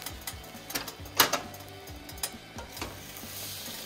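Eggs fry in a hot pan greased only with bacon fat. The sizzle is close and crackling, with scattered pops and a few sharp utensil clicks and scrapes against the pan.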